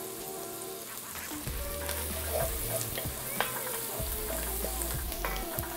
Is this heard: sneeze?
no